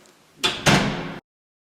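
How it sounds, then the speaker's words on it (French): A door swings shut indoors with two quick knocks, a light bump and then a firmer latching thud, close by and followed by silence. "On peut fermer cette porte."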